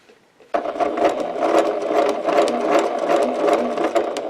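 A sewing machine stitches quilt pieces along a marked line, starting abruptly after a brief quiet moment and then running steadily with a close, busy mechanical whir and rattle, no voices.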